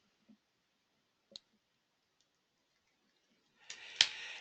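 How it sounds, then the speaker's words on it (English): A single sharp mouse click on a Start button stands out in near silence, with a couple of tiny taps before it and a brief burst of rustling noise near the end. "you click the Start button"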